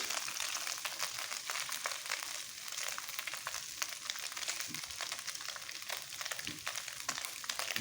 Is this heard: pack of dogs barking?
no